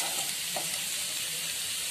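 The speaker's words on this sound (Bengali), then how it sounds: "এখন আদা কুচিটা দিয়ে দিই।" Chopped ginger hissing in hot oil in a pan, a steady close sizzle that holds evenly throughout with no voices.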